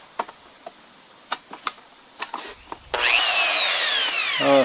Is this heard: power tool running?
yes